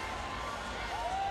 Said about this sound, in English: the delight of the Brazilian crowd